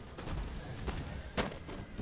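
Musket volleys in an Empire: Total War online battle, with a few distant, muffled bursts of gunfire over low rumbling battle ambience.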